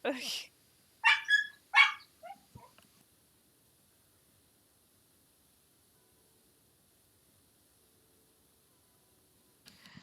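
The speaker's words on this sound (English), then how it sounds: "so I can get my dog under control a little bit more so it's not constant barking for you guys" A pet dog gives a few sharp indoor barks in a quick burst near the start, then silence, with one more faint bark at the very end.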